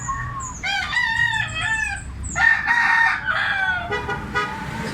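A bullstag rooster crows in repeated drawn-out calls, loud and close, with a few clucks mixed in between the crows.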